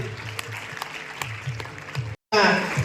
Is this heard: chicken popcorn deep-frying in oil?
no